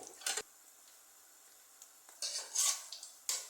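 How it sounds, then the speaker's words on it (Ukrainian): Cheese doughnuts frying in oil that boils over medium heat, with scattered sizzling bursts and light scraping and clinks of a utensil against the pan. The bursts come in short close clusters separated by quiet gaps, with no talking. "Олія в мене кипить на середньому вогні."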